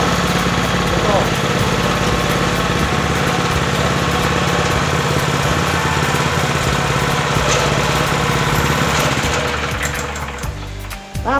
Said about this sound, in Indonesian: Ini tidak menggunakan engkol karena ini bensin, ini cukup tarik, ya.